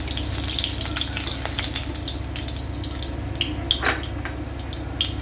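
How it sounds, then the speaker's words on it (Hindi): Mustard seeds fry in hot oil in a kadhai with a continuous close sizzle and scattered sharp crackles and pops, heard alone without talk. "अब मैं कढ़ाई में मैंने तेल डाल दिया है। ये देखिए, सरसों के दाने थोड़े से डालूँगी"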